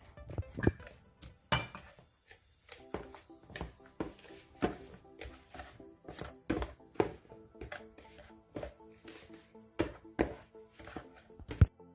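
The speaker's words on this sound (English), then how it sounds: "you can mix it all in to make the crust" A whisk mixes crumbly keto cheesecake crust in a bowl, giving irregular metallic clinks and knocks against the sides, sometimes in quick clusters, with quiet gaps between strokes.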